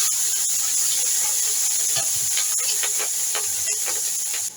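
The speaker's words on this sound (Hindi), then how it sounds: "हमने दोबारा कढ़ाई में ऑयल डाल दिया। ये बॉयल चावल शामिल करेंगे।" Boiled rice frying in hot oil in a wok for Pakistani-style Chinese chicken rice, a steady close hiss and sizzle with faint crackles and stirring scrapes.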